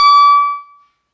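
A single clarinet squeak, a piercing, thin high note far above the intended C, sounding abruptly and fading out within about a second, with no talking.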